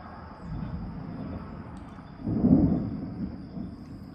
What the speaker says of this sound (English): I've been listening to It Thunder and listening to Pandora.